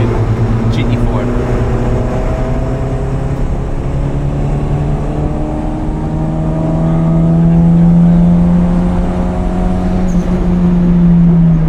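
A Toyota Celica GT-Four's engine drones and climbs steadily in pitch as it accelerates on the Nürburgring, loud and close, as though heard from inside the car.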